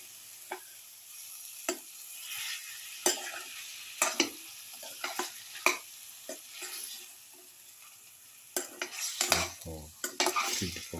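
Chicken with cumin and salt is mixed by hand in a dish, giving soft irregular scrapes and clicks of utensils against the bowl, growing busier and louder toward the end, with no speech.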